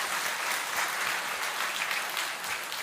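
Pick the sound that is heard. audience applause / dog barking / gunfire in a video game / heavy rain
audience applause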